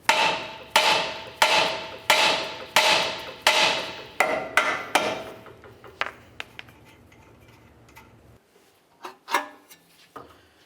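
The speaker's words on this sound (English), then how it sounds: "Just use a hammer, give it a couple bonks." A hammer strikes a tie rod end on a 1999-2003 Toyota Solara, about eight sharp metallic blows in steady rhythm, then a few lighter scattered taps.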